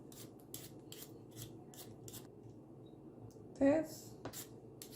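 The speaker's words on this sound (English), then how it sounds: "I'm just going to peel them" Potatoes being peeled with a hand peeler, quiet rhythmic rasping scrapes repeating several times in a kitchen, with a brief spoken word partway through.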